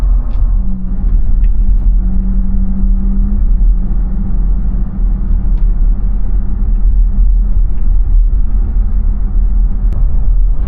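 Steady low road rumble and whooshing wind noise from inside a moving Jeep Gladiator with added aftermarket lights, loud and continuous at higher speed, with faint rattles over the drone.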